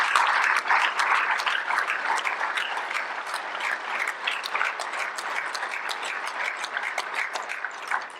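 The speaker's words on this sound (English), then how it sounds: "he really deserves one more round of applause" An audience at a marriage equity bill signing breaks into sustained applause, dense clapping that starts strong and gradually thins out.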